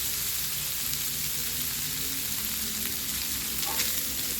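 Enoki mushrooms frying in a pan with stir-fried minced pork and meatballs, a steady close sizzle and hiss with faint stirring, no voices.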